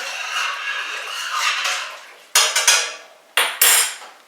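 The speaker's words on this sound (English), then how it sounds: "So we'll just give that a quick stir." Spoon stirring a metal pot of water with oil and salt, a close scraping swirl against the pot walls followed by several sharp metallic clanks of the utensil hitting the rim.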